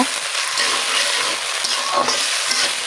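Chopped onion and green chilli stir-frying in hot oil with spices for chickpea curry, a close, dense sizzle with light scraping as the pan is stirred.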